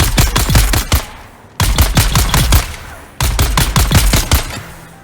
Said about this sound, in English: I highly recommend you craft the Karpov 38 rifle, because as you can see here, it absolutely shreds